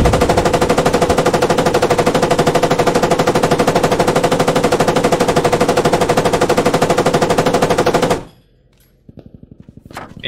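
A machine gun fires in long, loud, rapid sustained bursts in the video game Squad for about eight seconds, then falls silent before a shorter burst follows.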